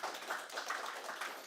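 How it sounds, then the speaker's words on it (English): Faint, distant applause for software developers at a tech meetup, a brief steady patter of many hands clapping with no talk over it. "So I think they deserve a round of applause for doing that."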